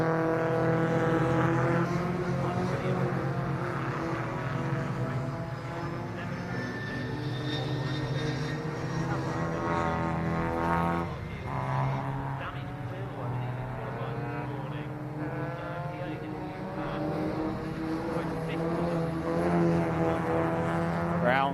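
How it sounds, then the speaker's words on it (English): MG Metro Cup race cars at Snetterton circuit drone steadily as they file behind the safety car, a continuous engine hum with shifting pitch under a commentator's voice. "we can see the cars just making their way into the infield now behind the safety car"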